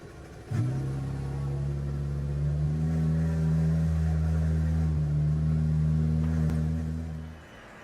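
A 2016 Super GT500 race car engine in Gran Turismo Sport drones with a steady, fairly loud tone that holds its pitch and shifts slightly partway through, then fades out at the end.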